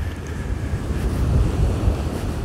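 Waves of the Sea of Azov on a Kuban resort coast in October, a steady low surf roar under gusting wind buffeting the microphone, with no voices.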